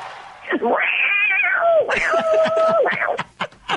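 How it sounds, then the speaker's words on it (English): A cat meows several times in long, drawn-out, wavering calls, close and fairly loud, with voices talking in the background. "Did we hear the cat call?"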